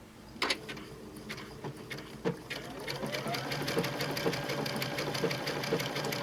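A Baby Lock Chorus/Crescendo sewing machine stitches scallops. A few sharp clicks come first, then a close, steady motor hum with quick rhythmic needle ticking that runs to the end.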